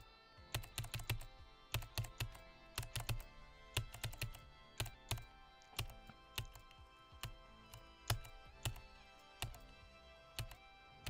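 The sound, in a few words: rapid mouse clicking spam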